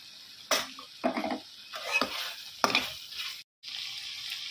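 Green chilies and cinnamon powder sizzling in a pan during chicken liver fry cooking, with several bursts of stirring and spoon scrapes over a soft frying hiss, close and fairly quiet.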